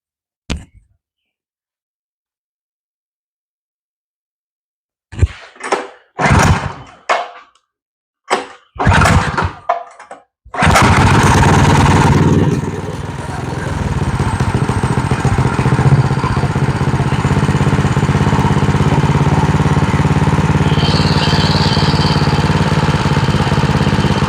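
A drift trike's small engine sputters through a few brief cranking attempts, then catches and runs at a loud, steady idle after its throttle screw is adjusted, with a low rough putter close by.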